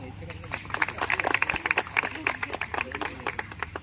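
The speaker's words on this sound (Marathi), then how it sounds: "टाळ्या वाजवा." Audience applause at a stage award ceremony for a Dashavatar performance group; dense, steady clapping fills the room for a few seconds at moderate level, with a voice speaking over it.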